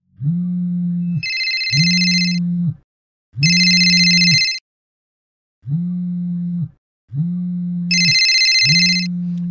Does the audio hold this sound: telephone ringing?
yes